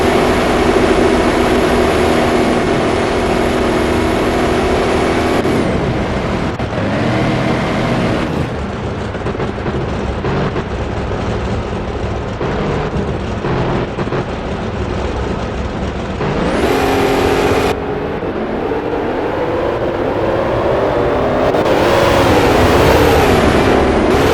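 Drag racing cars in the NHRA Speed for All video game at the Auto Club Finals, a loud, steady engine roar with rising and falling pitch sweeps across several runs, filling the whole stretch without speech.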